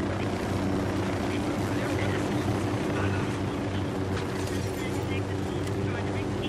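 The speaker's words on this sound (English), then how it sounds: "Hit the dirt, helicopter." A helicopter approaches in Tom Clancy's Ghost Recon Wildlands, a steady, loud rotor drone and rumble that holds throughout, with faint scattered game noises on top.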